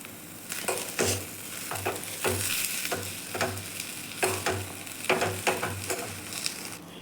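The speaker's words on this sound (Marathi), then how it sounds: "चवीप्रमाणे मीठ आणि कोथिंबीर टाकून व्यवस्थित मिक्स करून घेऊ भाजी" Potato filling for samosas made from leftover chapati is stirred in a hot pan with salt and coriander, a steady soft sizzle broken by repeated scraping strokes of a spoon at a close, even rhythm.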